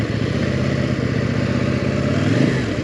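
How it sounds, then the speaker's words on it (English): A CFMoto 800NK motorcycle in sport mode gives a loud, close, deep exhaust rumble, steady and throbbing with a slight rise in revs near the end. "the exhaust note actually sounds loads better in sport mode"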